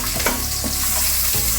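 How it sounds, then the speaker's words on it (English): Onion frying in a pan: a dense, steady loud sizzle fills the short moment, with a few soft scrapes of stirring underneath and no voices. "so try to put the onion"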